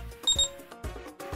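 A toy traffic light gives off short, bright electronic beeps in a quick pair, followed by quieter soft clicks and pauses, close and alone.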